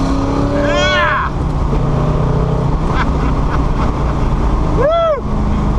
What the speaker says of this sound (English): it's the first time we're going to open up this 500 horsepower plus muscle car